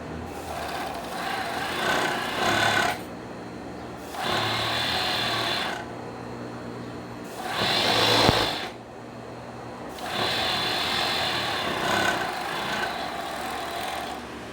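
A sewing machine stitches a foam piece for a carnival costume hat shaped like a beer mug, running in several steady buzzing bursts of a second or two each, close and clear, with short pauses between runs.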